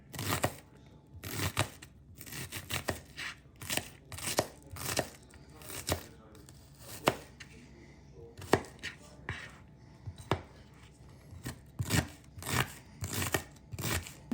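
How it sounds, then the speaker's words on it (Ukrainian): An onion cut into quarter rings on a board, knife strokes landing in quick close bursts of crisp chops separated by short pauses, loud and crunchy with no talking. "Цибульку буду нарізати четверть кільцями."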